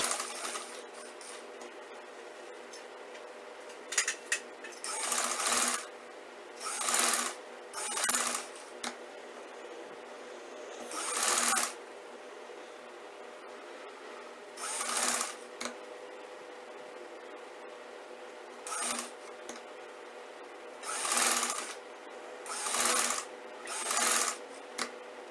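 A sewing machine stitching a Chinese collar, running in about a dozen short bursts separated by quiet pauses, close and fairly loud against a low background hum.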